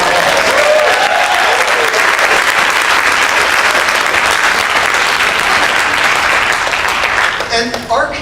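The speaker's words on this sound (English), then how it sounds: "Give him a round of applause." A crowd claps loudly and continuously at an evening King County community gathering, a dense and sustained ovation that thins out and trails off in the last second.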